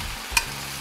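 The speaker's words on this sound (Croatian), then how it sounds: "povrće posolimo i miješajući pržimo dok malo ne omekša" Marinade vegetables, fresh cut vegetables, rosemary and bay leaf frying in a pot for Dalmatian pašticada, a close steady sizzle with one sharp scrape of stirring partway through.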